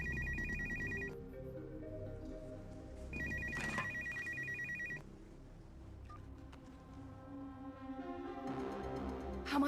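A telephone rings in a film, its bell trilling in two clear bursts separated by a pause, over a quiet, tonal background score.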